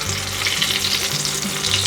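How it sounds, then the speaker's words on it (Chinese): Vegan shrimp made from potato deep-frying in a pot of hot oil, a loud, dense, continuous sizzle and bubbling heard close up without any voice. "油已经热了，把素虾放进来炸"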